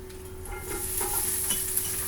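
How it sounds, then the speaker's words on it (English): Steady frying sizzle of garlic in a hot pan, a continuous crackling hiss with faint stirring and utensil clinks, no voices. "So you hear the sizzle."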